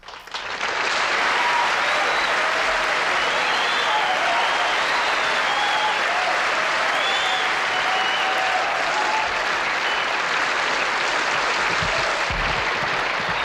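A studio audience applauding a stand-up comedian on a 1976 rock concert TV show, a loud dense sustained clapping with scattered whoops and cheers that swells in and holds for over twelve seconds.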